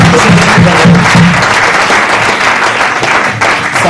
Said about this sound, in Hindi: जबरदस्त तालियां होनी चाहिए, जबरदस्त।